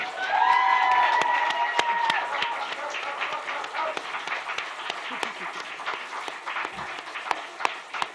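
Audience applause and cheering for Ruby at the Emerging Writers' Festival 2024 program launch, a dense, loud burst of clapping with whoops early on that gradually thins out over several seconds into scattered claps.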